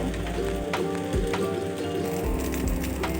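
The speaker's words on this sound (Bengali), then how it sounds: "নাড়িয়ে চাড়িয়ে ভালো করে ভেজে নেব" Pasta frying and being stirred in a pan, a steady close sizzle with scattered clinks and scrapes of the spatula, no talk.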